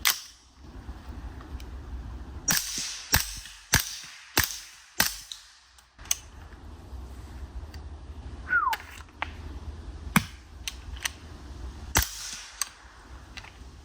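Suppressed CAR-15 SD rifle firing subsonic 115 and 124 grain rounds, a series of sharp muffled cracks in irregular bursts, some rapid and some spaced, close with faint background rustle.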